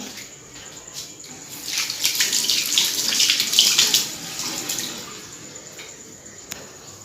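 A kitchen tap runs while something is rinsed under it, water splashing louder in the middle and then easing off, ending with a small clink.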